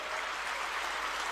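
An audience at a temple gathering claps steadily for the team, a dense, even burst of applause with no talk over it.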